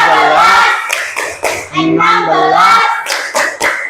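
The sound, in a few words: hand clapping counting multiples of four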